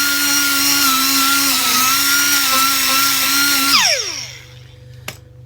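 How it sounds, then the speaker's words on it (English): A power sander works over a repaired cracked plastic panel, running steadily and loud for nearly four seconds before winding down with a falling whine, followed by one sharp knock. "We've let the plastic go off and we're just going to give us a quick sand down"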